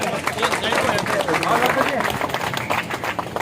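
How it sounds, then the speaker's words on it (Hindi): A crowd claps steadily in a dense patter, with chatter and voices mixed through the applause. "तालियों से स्वागत।"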